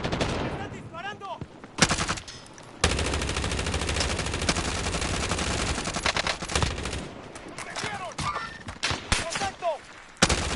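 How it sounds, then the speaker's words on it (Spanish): Rapid automatic gunfire in a Call of Duty match, long loud bursts of machine-gun fire with short gaps between them and scattered single shots, while players shout over the action. "¡Están disparando!"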